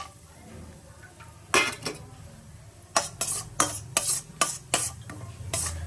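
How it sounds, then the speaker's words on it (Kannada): Cashews are stirred in ghee in a pan, with a low sizzle underneath and a series of bright metallic scrapes and clinks of the spoon against the pan, coming in quick irregular bursts. "ಗೋಡಂಬಿ ಹಾಕ್ತಾ ಇದ್ದೀನಿ."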